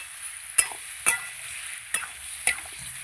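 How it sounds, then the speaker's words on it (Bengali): Mutton cooks in a pan with a soft steady sizzle broken by four sharp spatula scrapes as the meat is stirred and browned, close up with no voices. "ঢেকে ঢেকে মাংসটাকে কষিয়ে নেব"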